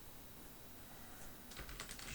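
A few quick keystrokes on a computer keyboard, quiet and close, with a short burst of clicky taps near the end.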